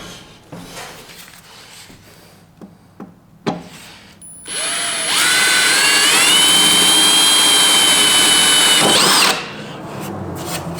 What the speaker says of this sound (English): The hole's drilled